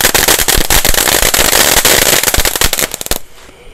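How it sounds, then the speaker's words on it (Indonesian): A Four Conic Fountain firework burning in a rice field at night gives a loud, dense run of crackling pops that cuts off sharply near the end, leaving faint background noise. "Mantap, Four Conic Fountain. Mantap sekali guys, kita nyalakan di sawah ini guys, malam hari."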